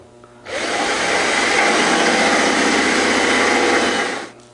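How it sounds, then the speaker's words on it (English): A power drill with a 5/16 bit boring holes into a car door for a solenoid mounting bracket, one continuous loud whirring run of about four seconds that starts and stops abruptly, close by with no talking. "Using a 5/16 drill bit, we're going to drill out the holes for the mounting bracket of the solenoid"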